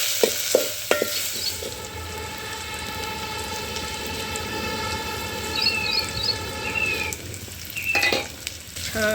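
Curry leaves, garlic and coriander frying in a pan over a village wood-fired stove, a steady close sizzle with scraping stirs and a few clinks of the spoon against the pan, running throughout with no talk.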